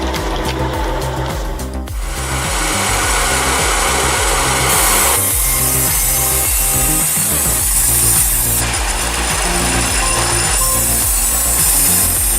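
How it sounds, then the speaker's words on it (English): An ultra-light mini chainsaw cuts firewood, its motor buzzing loudly and continuously with shifting pitch as the chain bites through the wood. "Everything runs smoothly and effortlessly with this ultra-light mini chainsaw."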